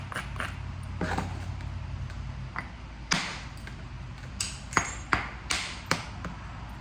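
Sharp stone strikes ring out while colorful coastal chert is flintknapped, a few soft taps early, then a cluster of crisp, bright, close clicks spaced about half a second apart near the end, with no speech.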